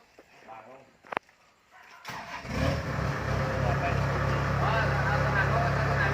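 A Kubota combine harvester's engine starts after a quiet moment with a few clicks, then settles into a loud, steady rumbling run out in a rice field, with people talking nearby.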